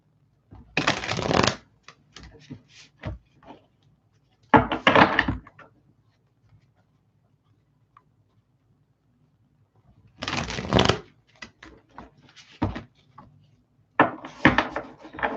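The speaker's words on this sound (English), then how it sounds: "Let's shuffle these ones." Tarot cards being shuffled by hand in bursts, several separate riffling rustles with quiet pauses and small taps between them, close and fairly soft.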